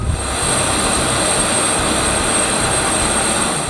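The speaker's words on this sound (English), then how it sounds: "letting him know through hand signals that we're starting up the jet, getting it going" An EA-6B Prowler jet engine of Marine squadron VMAQ-2 spools up on deployment, a loud, steady roar with a high whine that fills the whole stretch, with no voices.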